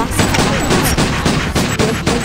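Default weapons in a shooter video game fire continuously, giving a loud, dense, rapid fusillade of overlapping shots that runs throughout with no breaks.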